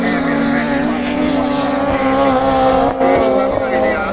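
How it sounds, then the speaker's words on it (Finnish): A racing car with a Turatekki engine revs hard in a Finnish ice racing final on long studded tires at Akaa, a loud continuous high-pitched engine howl rising and falling, with a commentator talking over it. "kyllä Turatekki-moottori laulaa"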